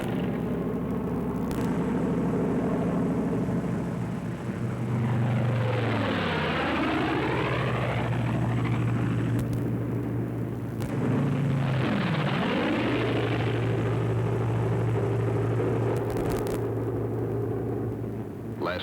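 P-47 Thunderbolt WWII fighter planes with propeller engines roar past one after another, a loud continuous drone swelling and falling in pitch as two close passes sweep by overhead.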